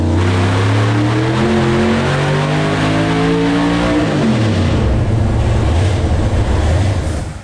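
A 1000 wheel horsepower Hemi engine, apparently supercharged, revs hard and very loudly up close, climbing in pitch and then roaring through a long sustained blast before tailing off.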